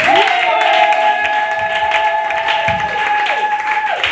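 Church congregation at a worship service applauding and cheering for Jesus, steady dense clapping that carries on throughout beneath a sustained organ-like tone, with voices mixed in.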